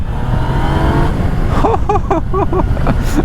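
A Yamaha Niken three-wheeled motorcycle accelerates in second gear, its engine loud and close with a rising whine that climbs in pitch through a few quick revs.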